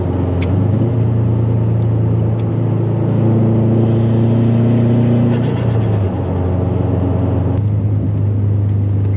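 A Subaru WRX STI engine with bolt-on modifications and dyno tune roars loudly and steadily, its pitch shifting as it accelerates through gears, with no one talking.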